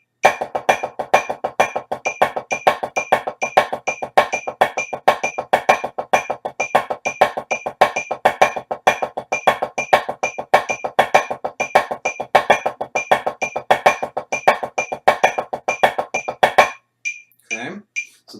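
Marching percussion drum triplets in a fast, steady stream, with accents played at two different heights so louder and softer strokes alternate in a repeating pattern, heard alone and close until a brief pause near the end.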